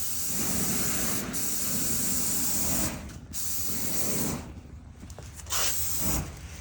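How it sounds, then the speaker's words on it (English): Canola oil cooking spray hisses in several long bursts from an aerosol can at a charcoal grill, with short pauses between sprays, close and fairly loud. "I just spray it with some, this is, I guess that's the Aldi version of the canola spray"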